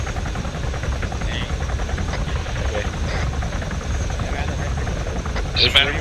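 A Chinook helicopter in a military video game drones steadily with a dense, low rotor and engine rumble throughout, while players talk over radio chatter on top of it.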